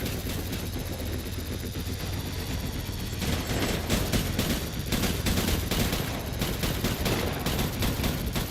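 Gunfire in the video game Death Stranding: sustained bursts of automatic fire and rattling volleys, dense and continuous, with an engine or rotor-like rumble underneath and no speech.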